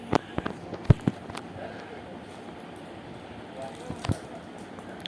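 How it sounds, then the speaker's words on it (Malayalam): Call of Duty explosions burst out as several sharp, punchy bangs, clustered early and again near the end, over a low background hum. "സ്ഫോടനം തീർന്നില്ലേ?"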